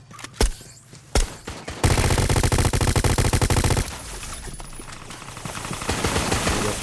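A video game firefight opens with a few sharp isolated shots, then a loud two-second burst of rapid automatic fire, followed by a rumbling wash of continuing gunfire and noise.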